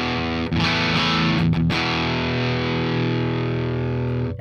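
A saturated, boosted electric guitar tone from the PolyChrome DSP McRocklin Suite holds a thick, warm chord, with a couple of quick re-strums early on and a long sustained ring, loud and up close.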